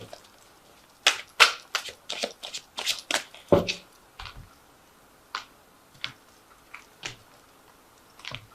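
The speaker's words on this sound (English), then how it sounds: "So I'm just going to draw some cards from the Angel Tarot." Cards from an Angel Tarot deck being shuffled and drawn, with a dense cluster of crisp riffling snaps early on, then sparser, quieter individual flicks and slides. No one speaks.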